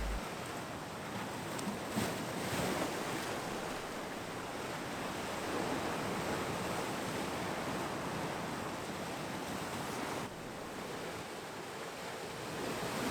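Sea waves break against rocks along the Madeira coast in a continuous, broad roar of surf and wash, loud and close, with faint wind buffeting and no voices.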